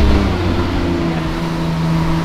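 Mercedes Unimog off-road truck driving over rough terrain, a loud steady low engine drone with a constant rumbling hum heard from inside the cab.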